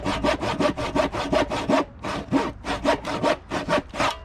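A handsaw cuts through wood for a small set of stairs in quick, even back-and-forth rasping strokes, close and loud, with a short pause midway before the strokes resume.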